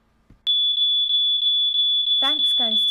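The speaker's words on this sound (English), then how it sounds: "sounds the alarm." A household smoke alarm sounds a steady, loud high-pitched beep that pulses repeatedly for several seconds, with a voice talking over the final stretch.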